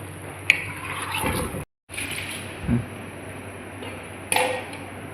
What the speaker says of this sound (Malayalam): നമുക്ക് ആ മിക്സി ഒന്ന് കഴുകിയെടുത്തോണ്ട് വരാം